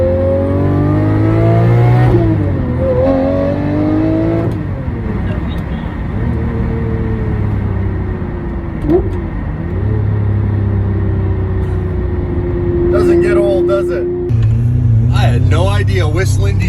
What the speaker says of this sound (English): That's a big truck.